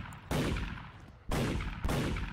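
Gunfire from a video game aimed at small birds rings out in three loud bursts, each a sharp crack followed by a short decaying rumble, spaced about a second apart.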